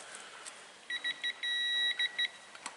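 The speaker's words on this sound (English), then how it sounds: "It goes beep, beep, beep, beep." Electronic device giving short high beeps as a reading nears its set value, a few quick pips, one longer tone, then more pips, faint and alone in a quiet room.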